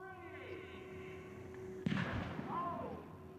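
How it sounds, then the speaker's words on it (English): A theatrical explosion staged at an air show at the old Rhinebeck Aerodrome, simulating a World War I scene: one sudden boom over steady background noise, followed by a rumbling tail and crowd sounds. "a theatrical explosion designed to simulate a World War I scene produced a smoke ring"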